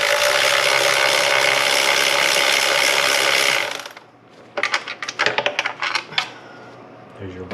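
A ratchet loosens 10 mm intake manifold bolts on a 2009 Nissan Versa, giving bursts of quick metallic clicking after a stretch of steady broadband noise, close and fairly loud.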